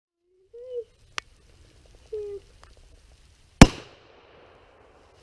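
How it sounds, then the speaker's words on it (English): A single sharp, loud blast of Tannerite going off inside a pumpkin outdoors, with a trailing rumble. A faint earlier crack and a few soft sounds come before it. "let's go and blow up a few pumpkins"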